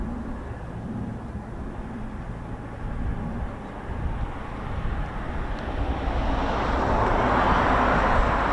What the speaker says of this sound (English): there's our C17.